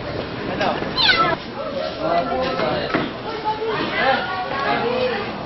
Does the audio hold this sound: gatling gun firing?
no